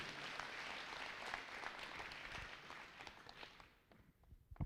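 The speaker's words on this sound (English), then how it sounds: "Shall we clap hands for all of ourselves" An audience at the Durban Business Fair 2021 claps their hands in a dense, sustained wash of applause that thins out and fades toward the end.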